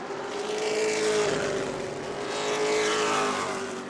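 Race car engines drone at New Smyrna Speedway, a sustained mid-distance roar that swells and fades slightly as the cars circle, with no voices over it.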